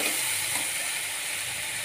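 Mustard seeds, urad dal and curry leaves tempered in hot oil with asafoetida for cabbage poriyal, a steady close sizzling hiss with no talking.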